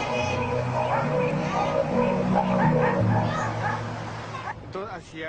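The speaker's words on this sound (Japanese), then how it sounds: "近所の犬が騒がしく吠え始めたという" Several dogs bark and yip excitedly nearby, with whining and whimpering mixed in, as a person talks over the din.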